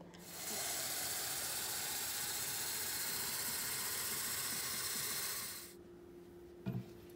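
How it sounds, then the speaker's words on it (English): A microwave oven heating a cup of water gives a steady broadband hum and whir for about five seconds, then cuts off, leaving quiet room tone and a short clatter near the end. "while that's heating up in the microwave"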